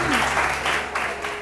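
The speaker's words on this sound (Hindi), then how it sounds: "ज़ीनत के लिए बहुत सारी तालियां जी" A studio audience on a TV morning show applauds for a guest named Zeenat, a loud burst of clapping in uneven waves that eases off slightly toward the end.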